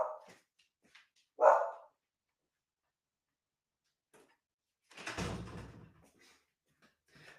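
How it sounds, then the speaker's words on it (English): A dog barks at a postman delivering letters indoors: a couple of short sharp barks near the start, then a louder burst with a door-like thump later, separated by quiet gaps. "the postman is just dropping off some letters and my dog's going mad"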